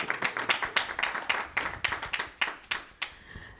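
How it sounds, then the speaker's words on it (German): Audience at a panel discussion claps in sparse, distinct individual handclaps, an uneven rhythm of separate slaps that thins out toward the end, fairly close and without talk. "jetzt bitte einmal klatschen"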